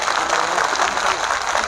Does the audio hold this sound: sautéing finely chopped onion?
no